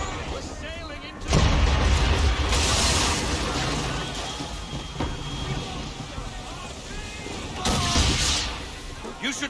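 Ship cannons fire in Assassin's Creed 3 naval combat with two heavy booming blasts several seconds apart over a constant rumble of sea and battle noise. Voices talk throughout.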